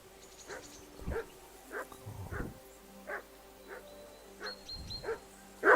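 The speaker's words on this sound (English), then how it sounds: "Be quiet, you flea-bitten hound." Dog barking in Kingdom Come: Deliverance 2, a run of separate barks and yips at a steady, uneven pace, fairly close, with a louder bark at the very end over quiet game ambience.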